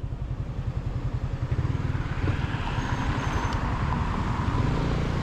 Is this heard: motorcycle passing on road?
yes